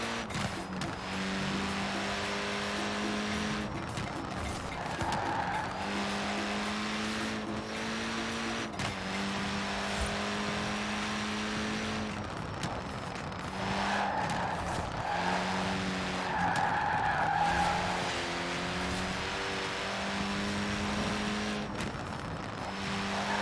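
A Mini Cooper S in Forza Horizon 4, its engine revving through repeated gear changes with rising and falling pitch and bursts of tyre squeal as it skids, close and steady throughout.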